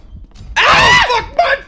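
A player shrieks loudly and close while playing the horror game CASE: Animatronics, with one long scream followed by a shorter second cry.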